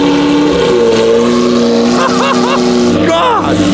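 A Lamborghini V12 engine starts and roars loudly and continuously, revving up and down with rising and falling whines, close and dominating throughout.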